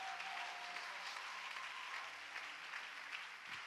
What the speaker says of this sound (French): Acclame mieux que ça